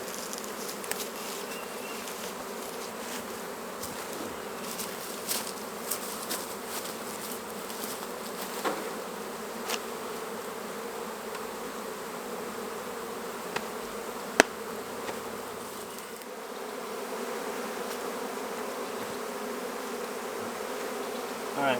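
Feral honeybees being shaken from a hollow into a box, a steady dense buzzing swarm close by, with occasional faint knocks and clicks.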